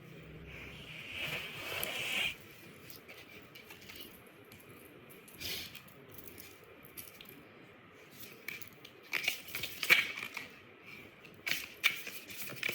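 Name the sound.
shuffling an oracle card deck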